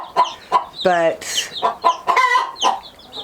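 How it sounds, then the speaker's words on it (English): Chickens in a backyard coop clucking and squawking at close range, a run of loud irregular clucks and one drawn-out call, with a person's brief word in between. "the chickens are really interested about what's going on in here"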